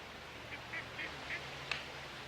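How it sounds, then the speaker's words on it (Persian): Ducks on a pond give a handful of short, faint quacks spaced through a couple of seconds, heard from a distance over a low steady background hum. "این طرف دست چپ یه برکه آب پر از مرغابی."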